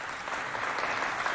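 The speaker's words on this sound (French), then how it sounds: "On les applaudit bien fort, s'il vous plaît." An audience claps for young people from a neighbourhood youth centre at a holiday event, a brief even wash of applause, moderately distant and steady for just over a second.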